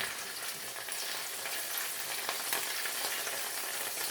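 Ginger fries in sesame oil in a pan, giving a steady, bright sizzle and crackle that runs alone throughout.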